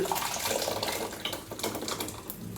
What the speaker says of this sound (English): I'm pouring it into this glass bowl